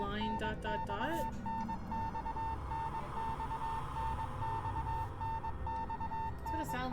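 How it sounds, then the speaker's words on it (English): Video game Death Mark plays an incessant telegraph-like beeping, a repeating pattern of short and long tones pulsing steadily under a person speaking over a low ambient hum. "It's an incessant beeping like a form of like from a telegraph."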